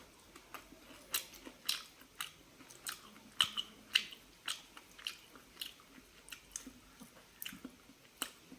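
Fried mixed leafy greens being eaten, with soft crisp bites and chewing in a steady irregular rhythm, quiet and close with no talking.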